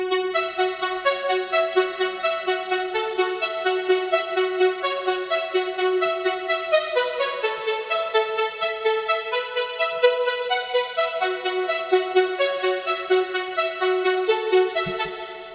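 Progressive house synth lead built in Native Instruments Massive, playing a bright, rhythmic pulsing pattern of chopped notes in a steady repeating melody, loud and upfront with no voices.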